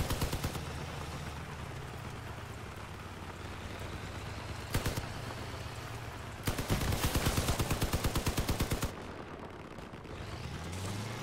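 A vehicle-mounted machine gun chatters through a Crossout video game fight under a constant engine drone, with a lone shot and then a long, loud, rapid burst followed by a short final rattle.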